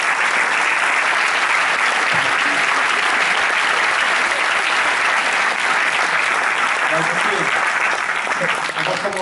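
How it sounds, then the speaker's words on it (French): An audience claps loudly and continuously, a thick unbroken burst of many hands that holds at full strength throughout. "On peut les applaudir très fort"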